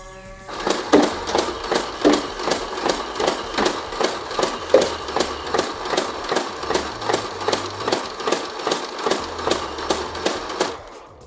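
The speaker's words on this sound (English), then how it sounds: "I'm just gonna full auto mag dump this down the hallway" A Nerf Mastodon flywheel blaster fires mega darts on full auto down a hallway, a fast steady stream of sharp, evenly spaced dart shots over a continuous flywheel whir, loud and close, lasting about ten seconds.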